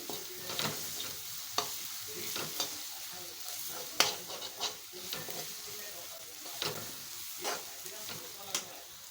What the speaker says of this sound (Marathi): आता हे कांदा आणि लसूण दोन्ही भाजलेले आहेत